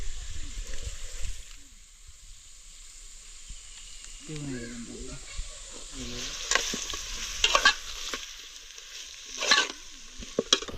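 Onion fries for a chicken gravy cooked outdoors in the forest, soft sizzle with intermittent stirring scrapes and clinks growing louder toward the end, close by, with faint murmuring voices in the background.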